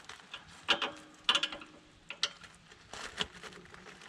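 A 14 mm wrench tightens a brake line fitting with a copper washer on a 1967 Toyota Corona RT40, making faint, irregular metallic clicks and ratcheting ticks at close range.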